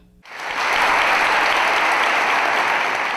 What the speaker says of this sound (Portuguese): Ao som de aplausos dos familiares e amigos que estavam presentes